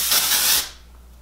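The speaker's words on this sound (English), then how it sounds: "I'm gonna be using the ORIBE Dry Texturizing Spray." ORIBE Dry Texturizing Spray hisses from an aerosol can onto hair in one short, close burst lasting about half a second, then cuts off into quiet.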